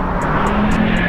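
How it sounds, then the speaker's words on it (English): A 2021 Subaru WRX STI engine running through an ETS Extreme catback exhaust gives a steady, loud, low droning rumble that holds evenly throughout, with no one talking. "see what the ETS Catback Exhaust system sounds like"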